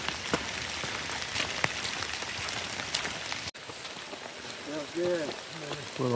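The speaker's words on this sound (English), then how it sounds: "Still raining," Rain falls on a wet hiking trail in Pinnacle Mountain State Park, Arkansas, a steady patter with scattered drop ticks, and a voice speaks faintly later under the rain.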